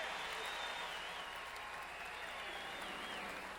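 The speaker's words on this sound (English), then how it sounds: "And a nice round of applause for the Wounded Warriors'" Crowd applause at the 2012 MLB All-Star celebrity softball game, a steady, distant wash of clapping and cheering from a large stadium audience, with a faint whistle drifting through it.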